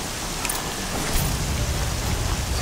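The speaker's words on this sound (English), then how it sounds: "Oh, that rain." Steady rain falls in the video game Horizon Zero Dawn, a dense, even hiss of downpour filling the scene at moderate volume with no voices.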